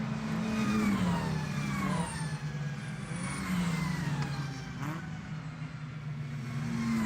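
A race car at the Mid-Ohio track passes with a rising then falling engine note, revving through gears at moderate distance, fairly faint against the surroundings with no talk.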